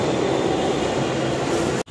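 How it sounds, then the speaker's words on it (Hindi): A metro train in Delhi arriving at the station gives a loud continuous rumble and roar that holds steady for nearly two seconds before cutting out abruptly. "तो अब आ गया मेट्रो"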